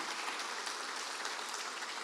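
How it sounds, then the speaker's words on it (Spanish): Congregation in a church clapping together, a steady dense wash of applause that holds evenly throughout at moderate distance, with no voices over it. "¿No le das un aplauso a Jesús?"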